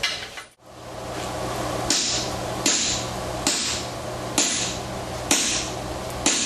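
Hammer blows ring against metal in a slow, steady rhythm, with about six sharp, loud strikes spaced roughly a second apart, each leaving a brief metallic ring under a constant hum.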